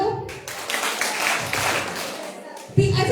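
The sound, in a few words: audience clapping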